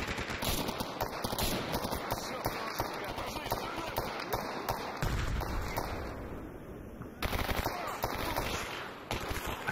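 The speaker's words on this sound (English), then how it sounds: "Just giving covering fire." Sustained gunfire in the STALKER Anomaly 1.5 mod during a raid on the CNPP, dense overlapping shots running the whole time as talk continues over the top.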